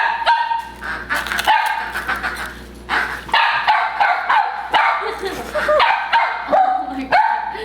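A corgi named Ventus barks repeatedly at a stuffed toy dog, a steady run of sharp, close barks and yips with people talking and laughing around it.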